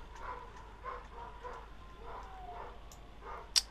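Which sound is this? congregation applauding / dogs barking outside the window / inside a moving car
dogs barking outside the window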